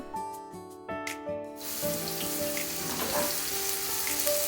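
Sliced onions sautéing in a pan for chicken sukka: after a few opening musical notes, a dense, steady sizzle takes over and continues evenly, with a soft tonal background lingering underneath.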